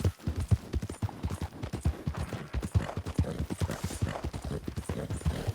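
Horse hooves clip-clop in a steady, rapid rhythm in the Red Dead Redemption 2 video game, a close and fairly loud gallop near a campfire with faint background noise and no talking.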